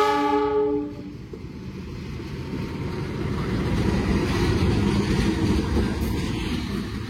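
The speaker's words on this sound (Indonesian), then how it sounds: "ini jalur 6 langsiran lokomotif dari KLB Kereta Petani" Locomotive shunting between tracks at an Indonesian railway station, moving from track 6 to track 4 for a special farmers' train: a horn blast opens, then a steady loud rumble of the engine and rolling wheels continues close by.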